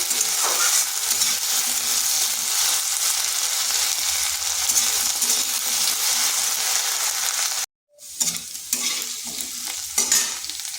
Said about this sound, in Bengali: আলুটাকে হালকা ভেজে নেব।